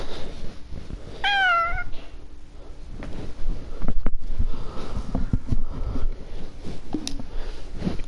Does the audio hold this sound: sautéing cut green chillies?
no